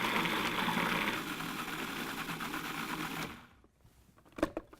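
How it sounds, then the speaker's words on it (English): A food processor whirs steadily as it purees vegetables into a coarse paste. The motor hums for about three seconds, then stops, followed by a couple of quiet clunks. "puree your vegetables in a food processor instead of chopping them by hand"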